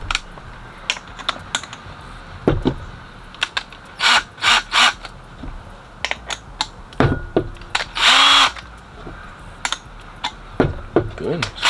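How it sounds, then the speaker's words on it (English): Power drill boring a hole in a Cutlass original center console for a custom cup holder, several short bursts of drilling among clicks and knocks, with speech between. "That way I can get ready to start drilling."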